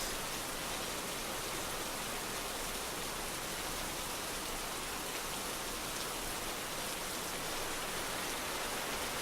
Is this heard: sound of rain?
yes